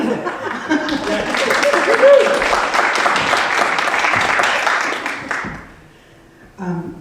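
Sustained applause from a symposium audience at MIT for several seconds, mixed with some laughter and murmuring voices, fading out near the end.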